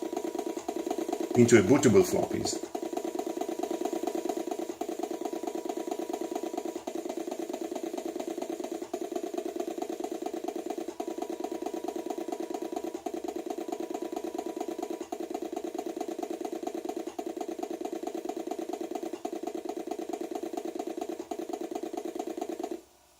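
An Atari floppy disk drive writes a bootable copy of the Pitfall game, converted from its cartridge on an Atari XL/XE computer with a Turbo Freezer 2017: a short clattering burst, then a steady, close mechanical whir that runs until an abrupt stop.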